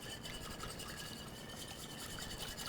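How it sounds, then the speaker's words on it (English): A honey dressing is whisked in a bowl with a steady, quiet scraping and swishing of the whisk, continuous and close. "So just go ahead and whisk that"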